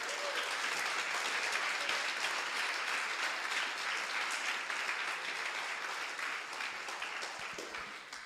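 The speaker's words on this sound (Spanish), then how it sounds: "Denle un aplauso al Señor" Steady, dense applause from a church congregation during a Spanish-language sermon, continuous and fairly loud, easing slightly toward the end.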